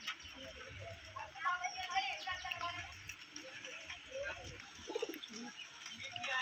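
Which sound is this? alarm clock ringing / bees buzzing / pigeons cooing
pigeons cooing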